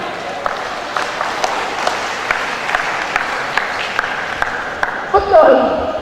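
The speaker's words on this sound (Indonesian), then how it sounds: "Makanya tepuk tangan untuk PLN dulu lah." Audience applause at a seminar hall, scattered clapping from a crowd with separate sharp claps standing out, moderately loud and sustained, with talk over it and a brief bump of noise near the end.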